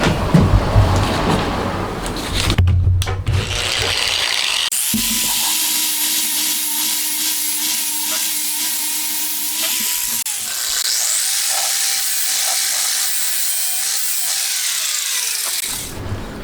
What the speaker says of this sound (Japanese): まずはここの出っ張り削っちゃいます。